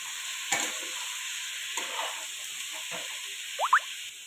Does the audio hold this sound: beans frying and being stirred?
yes